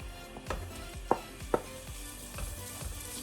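Pork belly hits a tablespoon of hot oil in a pan, giving a steady close sizzle with a few sharp pops and crackles, no voices.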